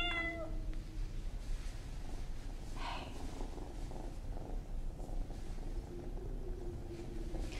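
A cat in a film scene meows once near the start, a short rising cry standing alone against a steady low background hum.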